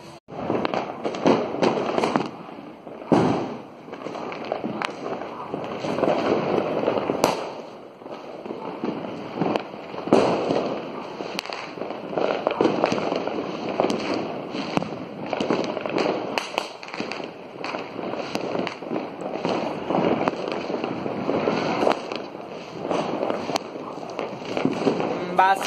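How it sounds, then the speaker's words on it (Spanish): Christmas fireworks crackle and pop in dense, continuous bursts for the whole stretch, a steady clatter of small explosions at moderate distance, with voices talking intermittently underneath. "Vamos a ver los cohetes."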